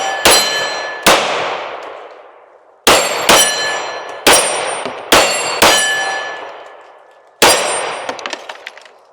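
Pistol shots on an outdoor range among trees, each followed by the ringing clang of bullets striking steel targets; about seven loud, sharp hits spaced unevenly, each leaving a long metallic decay, with no talk.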